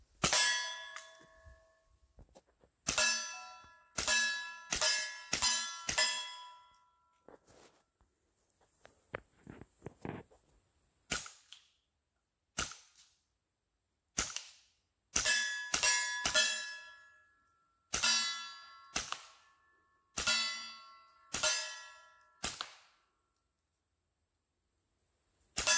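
Bullets strike metal targets outdoors, each hit ringing out as a bright clang that decays, coming in quick groups of several hits separated by pauses, fairly distant with the gunshots themselves subdued.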